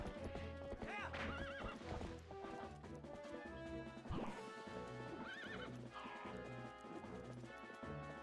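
In the video game Twilight Princess HD, a horse's hooves clip-clop in a quick gallop while the horse neighs, set over steady game music at low level.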